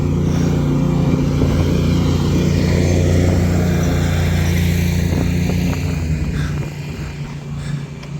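A lawn mower cuts grass by a lakefront beach park on Northerly Island, Chicago, its steady engine drone loud and continuous, fading slightly toward the end.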